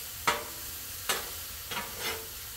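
Onions and ground meat for chili fry on a Blackstone griddle with a low steady sizzle, broken by four sharp scrapes of a spatula stirring across the flat metal top.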